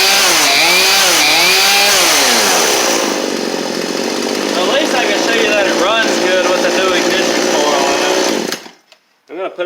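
A repaired chainsaw that had no spark, Homelite or Craftsman, with a freshly cleaned carburetor, runs loud and close. It revs up and down before settling into a steady buzzing idle, then cuts off abruptly near the end.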